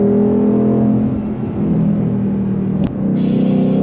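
A Shelby GT500 supercar engine drones loudly from inside the car on an open road in Canada, a deep steady rumble at part throttle with a brief dip and a higher whir near the end.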